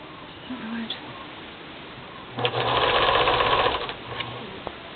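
A sewing machine runs in a single burst of roughly a second and a half, stitching over the raw edge of fabric for a fall-themed craft, close and steady amid quiet room noise with a few small handling clicks.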